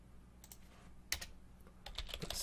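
Computer keyboard typing during a JavaScript coding session: a few separate key clicks early on, a louder burst of keystrokes near the middle, then a quicker run of taps toward the end. The typing is close and moderately loud, with no voices.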